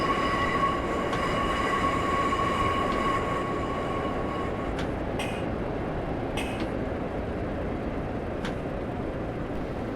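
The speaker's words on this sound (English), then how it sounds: "I'm just going to allow the train to coast around here" A Class 142 Pacer diesel train coasting in Train Simulator 2015 on the Darlington to Middlesbrough line, with a steady rumble of wheels on rail, a fading tonal whine and a few brief metallic squeals and clicks.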